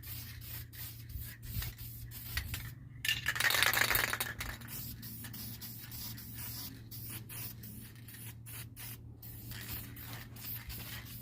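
A nearly empty spray paint can coats a rear sway bar for an '81 Mustang, a brief hissing burst in the middle among faint rubbing and rattling, close by with no talking.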